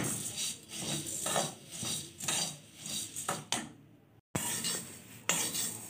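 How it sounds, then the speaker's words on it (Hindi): Puffed rice and poha dry roasting in a pan over very low heat, with rhythmic scraping and rustling strokes, close and fairly quiet, and a brief silent gap partway through. "सबसे पहले हम इनको ड्राई रोस्ट करेंगे, मुरमुरे और ये पोहा, बिल्कुल हल्की आंच पे"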